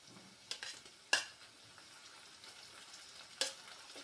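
Onions frying in a pan while mutton biryani is being cooked, a soft steady sizzle with a few sharp stirring clinks near the start and end, no voices.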